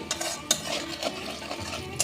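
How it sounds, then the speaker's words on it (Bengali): Cumin seeds frying in a pan for a meat khichuri, a soft continuous sizzle with a few light scrapes and taps of a spoon stirring them, fairly quiet. "সাদা জিরেটা খুব ভালো ভাজা হয়ে গেছে সুন্দর গন্ধ বেরিয়ে গেছে"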